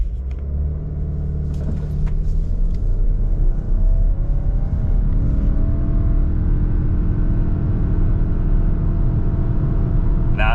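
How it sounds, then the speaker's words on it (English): A 2023 Subaru Ascent Limited accelerates hard from a standstill toward 60 mph at about 2,000 feet density altitude, its engine rumble loud and building steadily with a rising drone and road noise inside the cabin. "Let's see what it can do."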